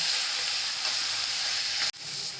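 Onion, tomato, garlic and curry leaves sauté in a pan with a continuous close sizzling hiss that briefly drops out near the end, then resumes, with no voices.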